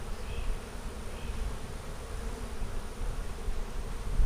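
Bees hum continuously around an open hive during an inspection, a dense, even buzz close by with a few individual insects droning past.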